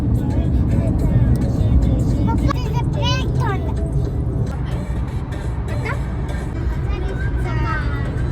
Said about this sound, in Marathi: जुन्या रोडला बघा ट्रॅफिक भरपूर आहे